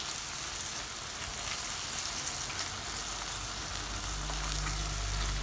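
Ground beef picadillo seasoned with garlic salt fries in a pan for sopes, giving a steady, close crackling sizzle that swells slightly toward the end, with no talking.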